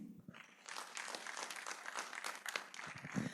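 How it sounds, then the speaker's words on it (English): Sustained audience applause fills the hall at an election security symposium and book launch, steady dense clapping from a crowd that rises after a quiet start and continues throughout. "Let's give him a round of applause"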